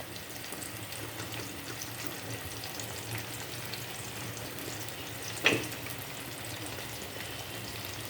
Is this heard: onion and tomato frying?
yes